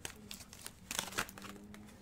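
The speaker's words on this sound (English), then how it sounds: "so we're going to keep shuffling." Tarot cards being shuffled by hand, a run of soft, quick papery riffles and crinkles close to the microphone, fairly quiet with a steady low hum underneath.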